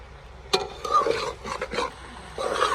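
Chicken is stir-fried in a kadai with no oil, a utensil scraping and stirring the pieces in irregular strokes with faint sizzling between them, close and fairly quiet.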